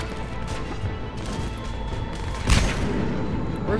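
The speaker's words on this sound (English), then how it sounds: "Oh, grenade!" A grenade explodes in the video game Mass Effect 3, a single heavy boom with a crashing burst partway through, set against a constant rumbling combat background.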